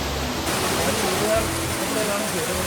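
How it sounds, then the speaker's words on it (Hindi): Tiger Waterfall near Chakrata pours in a loud, steady broadband roar of rushing water that fills the whole stretch, with faint voices underneath. "ये झरने बह रहे हैं वाटरफॉल में, टाइगर वाटरफॉल जो है ये देखो।"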